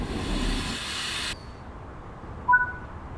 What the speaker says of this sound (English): Emergency brake has occurred, and the train is now coming to a stop.